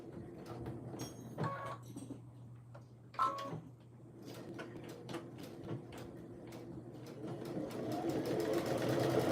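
A home sewing machine stitches a tee, whirring steadily and building toward the end, with brief clicks and handling knocks along the way and little talk.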